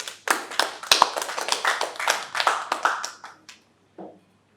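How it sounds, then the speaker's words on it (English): A small press conference audience claps in a loose, uneven patter of hand claps for a few seconds, trailing off to silence, then one brief last burst. "I think Baba deserves a round of applause."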